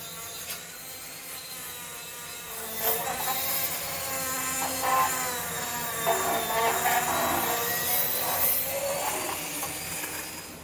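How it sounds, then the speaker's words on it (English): A wire brush scrubs orange rust off a car body, giving a steady harsh scratching and rasping that swells louder midway and keeps going in close, fairly loud strokes without talking. "Back to some more wire brushing."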